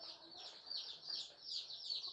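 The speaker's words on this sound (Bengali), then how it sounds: "দেখছেন মুরগির বাচ্চাটা" A baby chick cheeps in quick high repeated peeps while being given eye-drop vaccine against Ranikhet disease, close and faint, with no talking.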